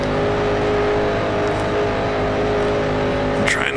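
A 1960s Grand Prix race car in the Grand Prix Legends sim game holds a steady, loud engine drone with a high whirring tone and rough low rumble, continuous and close, with no talking.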